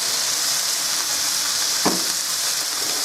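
Red onions frying in a pan for fried rice give a steady, loud sizzling hiss with one brief louder crackle partway through.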